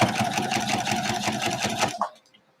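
A domestic sewing machine quilting minky fabric runs in a fast, steady rhythmic chatter for about two seconds, then stops abruptly with a small clunk.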